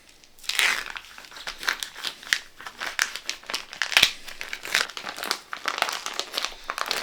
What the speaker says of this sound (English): with your sharp knife, you're going to cut open the bacon